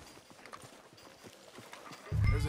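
Horse hooves walking in the video game Red Dead Redemption 2, soft steady clip-clop steps on a town street, followed by a louder low thud at the end.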